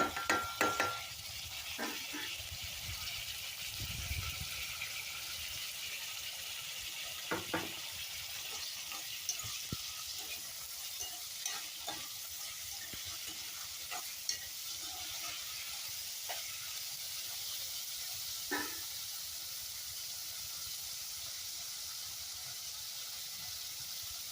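Tomatoes frying in a pan with a soft, steady sizzle, broken by occasional clicks and scrapes of stirring, quiet and close.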